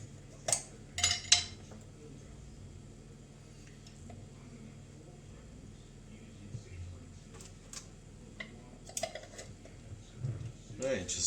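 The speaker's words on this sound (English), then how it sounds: "Right, just give that a wee mix about." A spoon stirs lemon juice and honey together in a bowl for piri piri sauce, giving a few quick, light clinks near the start and again toward the end over a quiet kitchen background.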